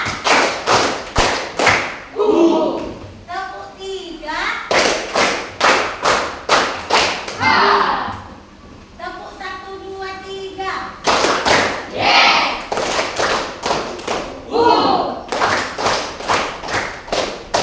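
A group of children doing a classroom ice-breaker clapping game, sharp unison claps in counted bursts of one, two and three, with a voice calling between the rounds.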